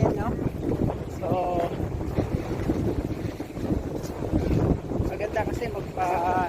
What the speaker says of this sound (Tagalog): Napakalakas po ng hangin, no?